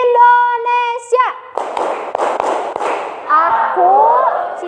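Schoolchildren in an Indonesian classroom do a clapping chant, a teacher's voice and children's sung phrases punctuated by several sharp group claps, loud and close, with lively chanting voices around them.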